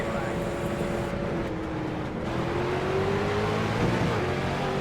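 Street stock cars at USA International Speedway in the iRacing game rev and accelerate at the race start, loud engine drones rising in pitch, with several cars overlapping as they pull away.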